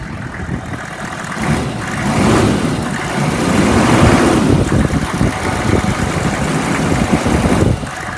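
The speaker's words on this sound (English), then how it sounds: "I'll rev it up a little bit." 2002 Chevy 3500 utility truck engine revved up from idle, a close, loud rumble rising and holding at higher revs before settling back, with no talk over it.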